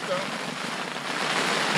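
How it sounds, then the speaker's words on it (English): Light afternoon rain at a mountain goat hunting camp in British Columbia, a steady soft hiss of drops falling on surfaces. It runs evenly throughout with a slight rise at the end and no voices. "It's the middle of the afternoon and it started to rain a little bit."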